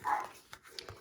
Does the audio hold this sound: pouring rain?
no